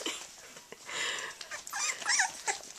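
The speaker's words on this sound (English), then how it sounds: "He's barking over here." A three-week-old puppy gives small high yips and whimpering barks close by, a few thin cries in a row over quiet background.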